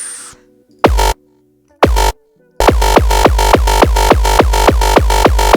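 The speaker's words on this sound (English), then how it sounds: "The uptempo hardcore kick sounds like this with all the effects off." An uptempo hardcore kick drum with all effects off hits twice alone, then pounds in a fast, steady run of heavy, booming beats, loud and close after a brief quiet intro.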